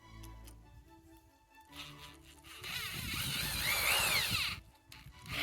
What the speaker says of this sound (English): what I'm going to do is just drill a hole through the wood